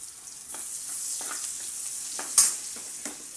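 Garlic frying in a pan for home-cooked mung bean soup with glass noodles: a steady broadband sizzle with a few soft stirring scrapes and one sharper clack near the end, no voices.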